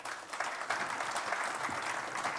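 A conference audience at a business forum applauds panelists in a steady patter of clapping from many hands, moderately distant and fairly faint, with no break for the whole short stretch.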